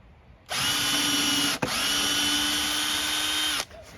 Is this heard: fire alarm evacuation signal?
no